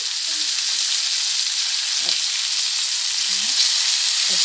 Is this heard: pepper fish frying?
yes